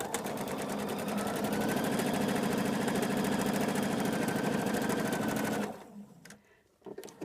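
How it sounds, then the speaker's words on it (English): A sewing machine stitches fabric at a steady fast pace with a dense mechanical whir. It stops near the end and leaves a few faint clicks and handling noises. "bring it right back to my sewing machine"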